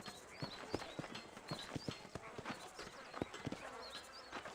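Horse hooves clip-clop in an uneven trotting rhythm in the video game Red Dead Redemption, fairly quiet, with faint ambient sounds behind them and no talking.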